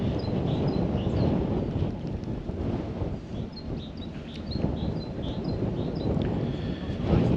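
Gusty January wind over the Norfolk Broads rumbles steadily against the microphone, rising and easing in gusts, with faint bird chirps scattered above the roar.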